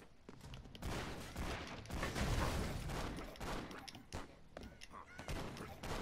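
Dense, continuous gunfire from the side-scrolling action game Broforce, rapid overlapping shots and bursts filling the whole stretch at fairly close range, with a voice talking over parts of it.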